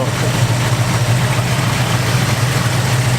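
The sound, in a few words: muscle car engine idling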